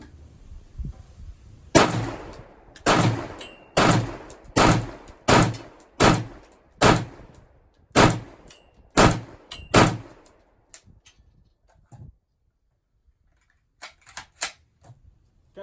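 A FN SCAR 17 rifle with a Sightmark Wolfhound 6x44 prismatic sight fires about ten rounds at a steady rhythm, each a sharp loud report with ringing tail, followed by a quiet pause and a few faint clicks.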